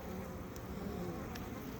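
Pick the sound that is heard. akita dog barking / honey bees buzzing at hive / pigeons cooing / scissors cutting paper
honey bees buzzing at hive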